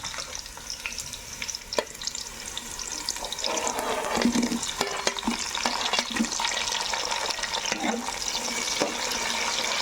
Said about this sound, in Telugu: పెట్టుకున్న టమాటా ముక్కలు కానీ వేసేస్తున్నా